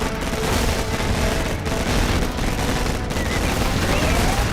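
Dense gunfire from a video game battle rolls on without letup, loud and close. Bursts overlap into a continuous wall of shots and blasts.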